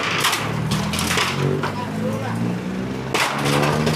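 Sledgehammers pounding away as unlicensed roadside buildings are demolished along Jalan Kompas Raya in Tambun Selatan, heavy crunching blows landing repeatedly amid outdoor street noise and people talking nearby.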